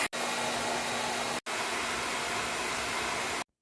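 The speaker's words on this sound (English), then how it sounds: "Blow dry." A hair dryer blows hair dry with a steady, fairly loud whooshing hum that cuts out briefly twice, then stops completely near the end; no talking is heard.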